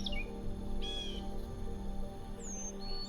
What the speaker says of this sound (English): filling each moment with the multiple and vibrant sounds of the awakening of the diurnal life of insects and birds